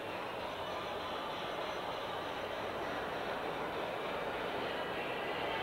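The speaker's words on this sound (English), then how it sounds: "notice the green steam engine coming up to the block and being stopped." LGB garden-scale model train, a Rio Grande switcher and a green steam engine on outdoor garden railway track with automatic block control, giving a steady continuous rumbling roll at moderate level with no talk.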